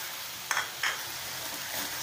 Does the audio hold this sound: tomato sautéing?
yes